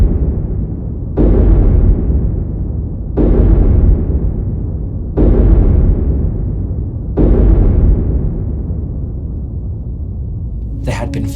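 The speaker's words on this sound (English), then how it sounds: "B-59 experienced 5 terrible, ear-splitting, hull-rattling explosions." Four heavy explosions boom against a Soviet submarine hull at regular intervals, each a loud deep blast that decays into a long rumbling tail, followed by a faint metallic clatter at the end.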